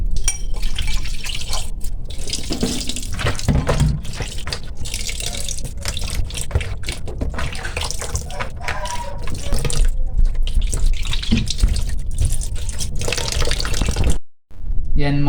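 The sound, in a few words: water running from tap while washing meat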